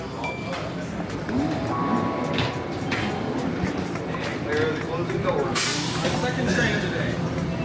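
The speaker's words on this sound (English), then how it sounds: "Second train of the day." A train rumbles steadily nearby with hissing and rattling, a sliding-door sound near the end, while people talk over the noise.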